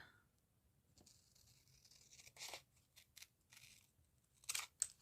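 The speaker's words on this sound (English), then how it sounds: "Oh, my scissors are sticky. I need to give them a clean. I can feel the resistance while I'm cutting." Sticky scissors snipping through paper ephemera with noticeable resistance, giving a quiet run of irregular crisp cuts and rustles close by, with no talking.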